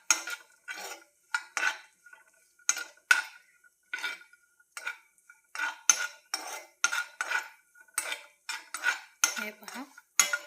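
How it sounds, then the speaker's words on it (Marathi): Cashews being roasted in a pan for Gokak kardant, stirred with a metal spoon in quick repeated scraping clinks, steady rhythmic strokes up close with no talk. "काजू जरासं मी जास्तच भाजून घेत आहे।"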